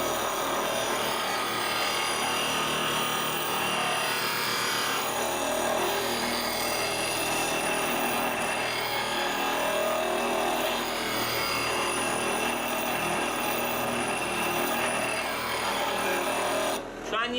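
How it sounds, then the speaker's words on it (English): A roughing out gouge held in a sharpening jig is ground against a spinning grinding wheel, giving a steady, loud abrasive rasp that runs continuously with little change, ending with a brief break at the close. "I'm going to grind that all away"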